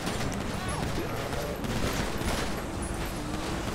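Rapid gunfire in GTA 5 aimed at a car's tires, dense overlapping shots forming a continuous burst under game noise, loud and steady throughout.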